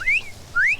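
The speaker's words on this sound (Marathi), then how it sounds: "शिट्टी वाजू मी." Someone whistles two short, sharp rising notes, close and clear, separated by a brief gap, with no talk around them.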